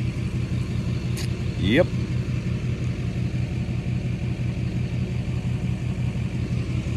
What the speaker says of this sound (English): we was driving down the road, found some more.